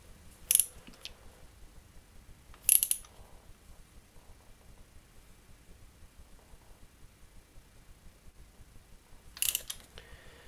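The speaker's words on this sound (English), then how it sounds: "tighten it down until you hear one click" A spark plug is tightened with a socket wrench on a motorcycle, giving three sharp, brief ratchet clicks spaced apart over quiet background.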